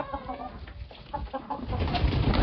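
Ducks in their pen give soft, repeated quacking and clucking calls close by, a few overlapping voices that grow busier toward the end, with rustling bedding beneath.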